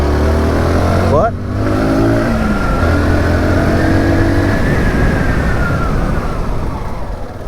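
The 18-horsepower engine of a SYM NH-T 200 motorcycle hums and revs up while riding, its pitch rising and falling, with wind rush and brief talk at the start.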